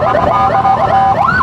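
Ambulance siren wailing loud and close during a volunteer motorcycle escort on an Indonesian road, its pitch sweeping up and down continuously with traffic noise underneath.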